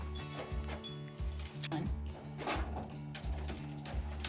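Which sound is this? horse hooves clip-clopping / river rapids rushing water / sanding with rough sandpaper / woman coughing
horse hooves clip-clopping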